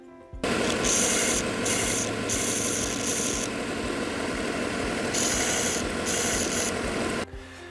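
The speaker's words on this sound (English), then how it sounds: "I like to chamfer off the very corners, outside corners of this, just a little bit." Steady, rasping abrasion of a tool working the outside corners of a wooden instrument bridge into small chamfers, a continuous close scratchy grind in several strokes that stops abruptly near the end.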